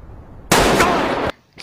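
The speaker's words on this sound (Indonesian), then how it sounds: "Sementara para peserta yang kehabisan waktu dan belum mencapai garis finish langsung dieliminasi dan ditembak mati." A sudden burst of rapid gunfire, sharp and loud, lasts under a second in a Squid Game elimination scene, cutting off abruptly into quiet.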